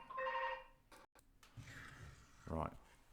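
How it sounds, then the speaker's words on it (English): A telephone rings with a spam call, a short electronic ringtone burst followed by clicks, with a person speaking briefly in between. "that was a spam phone call"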